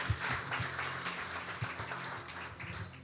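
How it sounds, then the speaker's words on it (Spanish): Church congregation applauding during a service, a short burst of many hands clapping that fills the room evenly, with no voices heard. "Un aplauso a Samuel."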